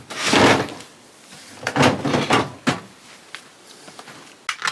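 A drawer in a RIDGID ProGear shop storage unit opens and closes, giving several close sliding rumbles and clunks, with short pauses between them.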